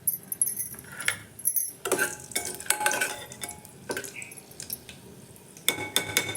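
Bay leaf and cinnamon sizzle in hot oil for tempering, with sharp metallic clinks and scrapes of a spoon stirring in the pan coming in irregular bursts close by.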